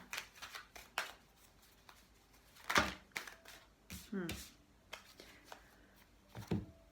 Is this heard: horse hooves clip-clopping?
no